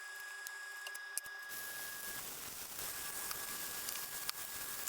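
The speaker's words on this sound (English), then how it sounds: "you can hear the chicken still cooking behind me" Four chicken breasts frying in olive oil in a pan give off a faint, steady sizzle that starts after a short quiet stretch and continues evenly, heard up close.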